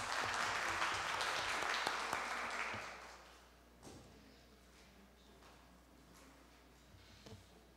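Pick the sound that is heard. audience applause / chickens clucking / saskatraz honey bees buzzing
audience applause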